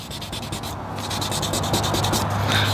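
Close, rhythmic rubbing of 2000 grit sandpaper wet sanding a paint scratch on a car body, quick back-and-forth strokes over a steady wash of noise, with a brief pause midway.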